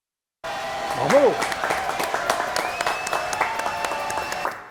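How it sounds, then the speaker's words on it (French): Audience applause at the close of a live Paris show, a sustained wash of clapping that starts abruptly and carries on steadily, with a voice and brief musical tones sounding over it. "Applaudissements, s'il vous plaît."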